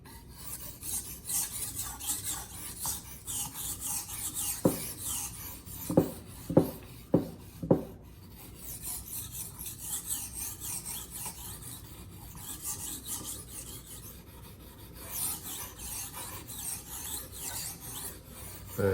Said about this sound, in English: We want to get all the parts of the blade sharpened.